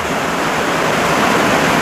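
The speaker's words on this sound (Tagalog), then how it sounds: "maulan sa location ko, maingay" Heavy rain pours down in a dense, unbroken roar of broadband noise. It is loud and steady, with no voices.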